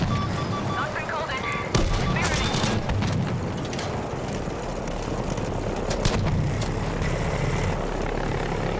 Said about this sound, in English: Can you provide a JP-2 airstrike?